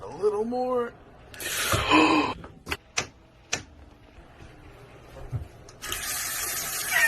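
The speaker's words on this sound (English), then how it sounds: "Gamer faucet." Water gushes from a faucet in short bursts, turned on and off, with clicks and clunks of handling between runs and a voice at the start.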